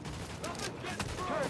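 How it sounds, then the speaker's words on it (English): Video game gunfire crackles in a dense continuous burst, loud and close, mixed with game sound effects and some voice activity. "Open fire!"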